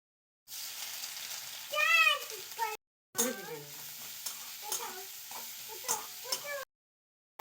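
Onions, garlic and ginger frying and being stirred in a pan, a steady close sizzle with scraping stir strokes, broken by two brief pauses, and no talking.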